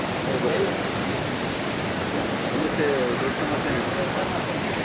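Water rushing past a collapsed section of village road, a steady broadband roar of flowing stream water, close and continuous with faint voices in the background.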